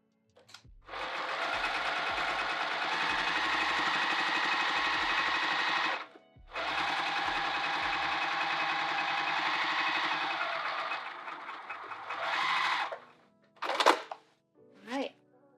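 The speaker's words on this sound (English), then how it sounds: "And let's top stitch that down." A sewing machine runs top stitching along a handbag seam in two long steady bursts with a short pause between, followed by a few brief clunks and handling sounds, with no talking.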